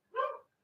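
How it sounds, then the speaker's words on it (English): Single dog bark, sharp and moderately loud at mid distance, then silence and the start of another bark at the very end. "Gotta do something about that dog."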